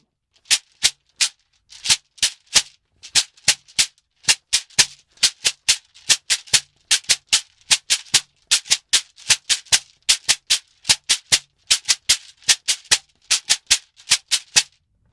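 A shekere gourd rattle played in a Brazilian maracatu rhythm, strokes alternating between right and left hands; dense, crisp beaded shakes repeating steadily and close up, with no voices.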